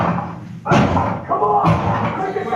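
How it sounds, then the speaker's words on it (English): At the Edinburgh Dungeons attraction, a door is smashed in with two heavy, booming thuds about a second apart, loud and close, with voices in between. "I smashed the door end."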